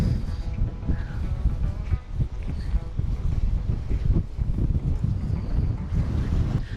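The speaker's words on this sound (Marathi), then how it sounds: "जबरदस्त हवा आहे. खूप थंड हवा आहे" Strong cold wind buffets the microphone on a bridge by the sea at Half Moon Bay, Victoria, producing loud, continuous gusty rumble with fluctuating intensity.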